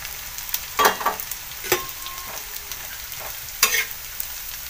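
Prawns frying in hot oil on a pan, a steady sizzle with several sharp stirring scrapes and clinks of a utensil against the pan, close and clear with no talking.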